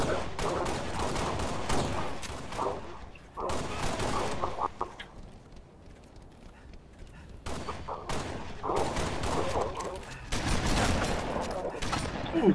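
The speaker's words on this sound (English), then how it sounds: "I just heard like four gunshots, dude." Bursts of rapid gunfire in the video game Halo: Reach crackle in dense volleys, pausing briefly between clusters, with a quieter stretch in the middle before the shooting resumes loudly.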